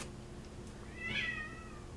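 Cats shut in a bathroom meow faintly from a distance, one short rising-and-falling meow over quiet room hiss, with no talk.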